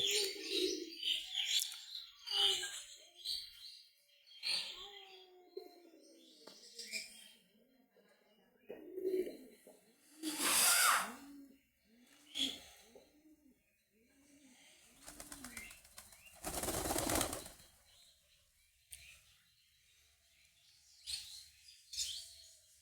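Domestic pigeons at a backyard coop, scattered chirps and soft cooing with bursts of wing flapping, moderately near, with someone talking intermittently.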